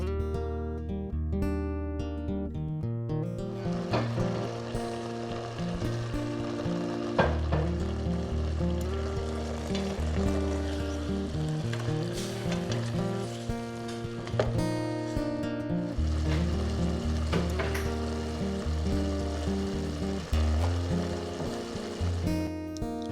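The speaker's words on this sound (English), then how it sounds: "Now we're going to brown our hamburger." Ground beef hamburger browning in a pan for a vintage tater tot hot dish casserole, sizzling steadily beneath prominent background music.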